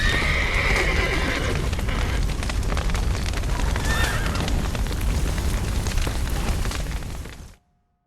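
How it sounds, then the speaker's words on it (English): Horses neigh and whinny amid a roaring blaze and collapsing structure in The Witcher 3, the loud rumbling fire and hoofbeats filling the scene before cutting off abruptly. "The horses!"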